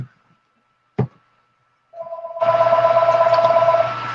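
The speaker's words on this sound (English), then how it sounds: "That phone never rings, and lately all it does is ring." A telephone rings indoors with a sharp click followed by a sustained electronic ringing tone lasting about two seconds, loud and clear with no talking.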